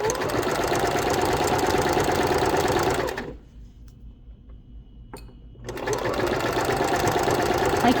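A sewing machine running steadily as it stitches a towel hem, loud and close, with a pause of near silence in the middle before the rapid stitching starts again.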